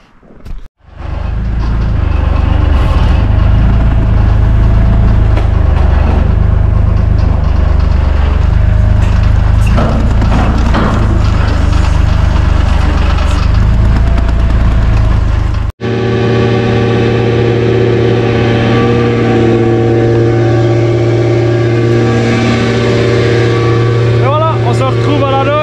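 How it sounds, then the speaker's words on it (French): A tractor pulls a water barrel across a field, its engine rumbling loud and close with a steady low drone throughout, briefly cut off partway before the running resumes. "Du coup on croche le tonneau au tracteur, on va vite chercher ça."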